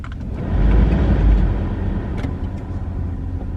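Inside a work truck, the engine gives a low, close rumble that swells briefly as it pulls, then settles into a steady idle-like drone with road noise, with no one speaking.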